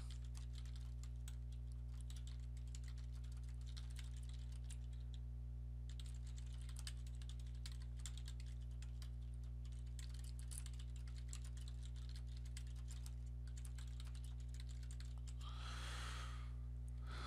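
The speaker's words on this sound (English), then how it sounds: "type in the customer's email address" Continuous typing on a computer keyboard while an email address is entered, soft steady keystrokes over a strong electrical hum, pausing briefly midway before resuming.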